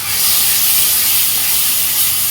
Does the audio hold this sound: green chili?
yes